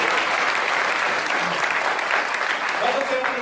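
Congregation at a Medan church gathering claps for Kelly, a steady, fairly loud wash of crowd applause throughout, with a voice faintly present beneath it.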